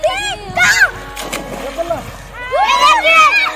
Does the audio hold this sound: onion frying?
no